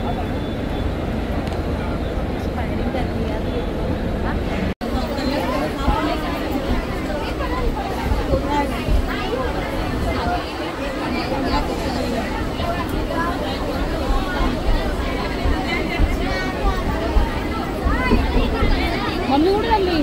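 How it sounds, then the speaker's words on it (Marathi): Evening crowd on a busy railway platform, a dense steady hubbub of many voices with a low rumble of trains or traffic beneath, continuous and fairly loud throughout. "आणि प्लॅटफॉर्मवर बघा केवढी आत्ताच गर्दी झालेली आहे"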